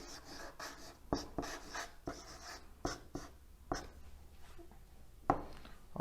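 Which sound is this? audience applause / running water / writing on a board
writing on a board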